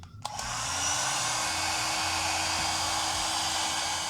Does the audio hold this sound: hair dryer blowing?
yes